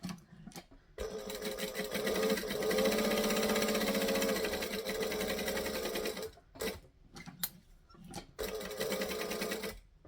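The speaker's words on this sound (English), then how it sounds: "So I'm stitching all 4 sides because then it won't move and it essentially just becomes one piece again" A sewing machine stitches around all four sides of a bag, running in a few loud bursts of rapid mechanical chatter with short pauses between runs.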